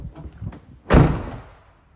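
A power-latching sliding door on a 2022 Volkswagen Transporter T6.1 Kombi van shuts with one loud, close thunk. Faint rumbling comes before the slam, and a short fading rattle follows it.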